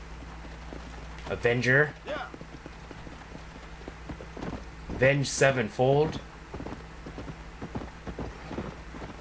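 Horse hooves clip-clop steadily during riding in the Red Dead Redemption video game, a quiet rhythmic patter beneath bursts of talking.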